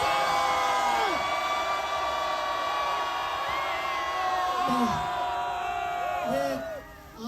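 A large crowd at an outdoor political rally cheers and shouts in a sustained roar, with whoops and chanting voices rising over the dense din before it briefly drops off at the end.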